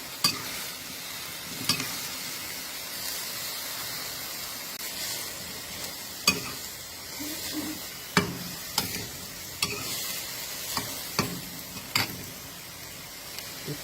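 Lotus stems stir-fried in a pan without added water: a steady close sizzle with repeated scraping clanks of the spatula against the pan at irregular intervals.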